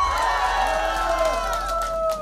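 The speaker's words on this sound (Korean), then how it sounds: "나 이쁘다는 분 함성 소리?" A crowd at a live pumba folk performance cheers and shouts together in a steady, loud swell, while a voice carries on over it.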